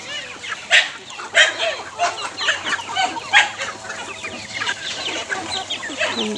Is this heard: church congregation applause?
no